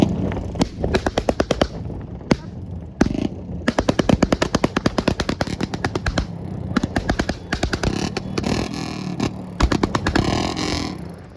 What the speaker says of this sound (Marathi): आता आवाज आहे का आवाज गाडीचा